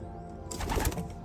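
Racing pigeons in a loft give a short burst of soft, low cooing, close by and fairly loud for about a second, with a faint background hum.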